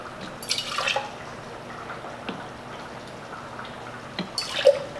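Three ounces of orange juice are poured for an Andalusian Nights cocktail, making soft, faint liquid trickles with a few brief splashes near the start and end, in a quiet room with no talking.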